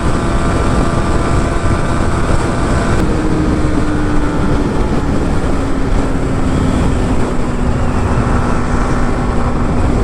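A Yamaha R15 V3 motorcycle runs at top speed in fifth gear, near 126 km/h and about 11,000 rpm. Its engine gives a loud, continuous high-rev drone mixed with heavy wind rush, with no talk.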